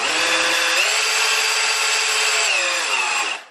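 A 3D printed Pelton turbine spins on a bench test with a loud, high whirring whine, rising in pitch briefly early on, holding steady, then winding down and fading at the end.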